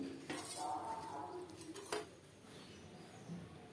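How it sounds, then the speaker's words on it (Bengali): A metal plate set down over a cooking pot on a medium gas flame as water boils, giving a clear metallic clink and clatter early on, with softer utensil sounds after. "এটাকে আমি থালা চাপা দিয়ে দিলাম"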